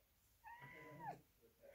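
Indoors, a single close, soft cat meow rises and then falls sharply, lasting about a second in a quiet room.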